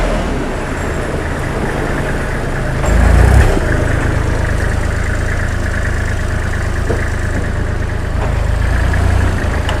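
A used Kubota L3408DT diesel tractor engine idles steadily and loudly throughout, with a brief rev in the middle and no talking.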